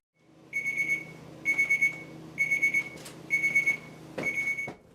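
A ChefAlarm cooking thermometer sounding while a holiday turkey cooks, beeping in five loud, clear bursts of rapid pulses with short gaps between them, close and alone without talk.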